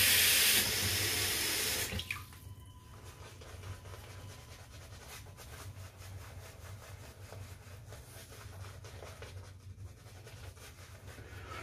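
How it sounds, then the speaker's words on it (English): Tap water runs steadily into a sink, a loud gush at first that settles into a quieter continuous splashing flow. "I'm going to go and throw a little water on my face."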